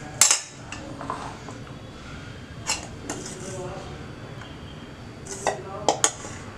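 Roasted wheat and ragi flour is folded into melted chocolate in a bowl, and a spoon clinks and knocks against the dish in scattered, sharp taps between softer scraping.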